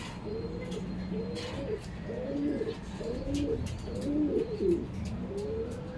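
Repeated soft cooing calls from a small bird, five or six phrases in a steady rhythm, fairly close, over a breezy outdoor background.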